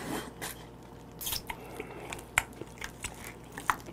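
Soy-sauce marinated blue crab being eaten close up, wet crunching bites and cracking shell at an irregular rhythm, with squishy chewing sounds between sharp bursts.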